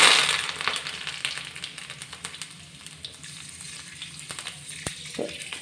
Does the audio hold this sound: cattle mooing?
no